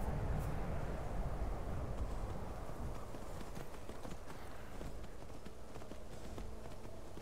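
Horse hooves galloping in the Skyrim video game on a snowy mountain route: a steady, rapid clip-clop rhythm over a constant wash of ambient game sound, moderately loud throughout.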